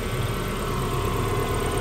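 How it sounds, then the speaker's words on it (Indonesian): A 2003 Kia Carens II with a manual gearbox idles steadily and smoothly up close, a constant even engine hum with no voices over it. "Suara mesin juga halus, Mas. Halus ya."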